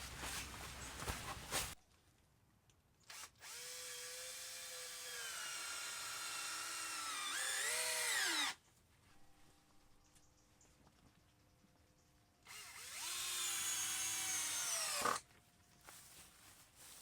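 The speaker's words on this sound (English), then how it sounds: "I'll put the screws in both sides in the back, and then it gives me more support to put the last part on." A power drill drives screws into the back of a DIY greenhouse workstation. Two sustained bursts of high motor whine, each lasting several seconds, rise and fall in pitch and are separated by quieter pauses with a low hum. No one talks.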